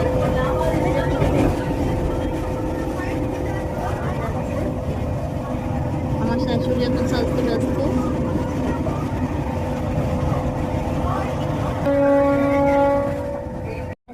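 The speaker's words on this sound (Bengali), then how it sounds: "বর্ধমান থেকে ট্রেন ছেড়ে দিল আমরা ট্রেনে উঠে" Passenger train pulling out of Bardhaman, heard from inside a carriage as a continuous rumbling ride with steady rolling noise, a brief tonal note near the end, and murmuring voices.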